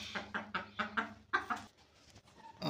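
A hen gives a run of close, rhythmic clucks, about seven quick pulses in a row, before things go quieter and a fainter call follows near the end.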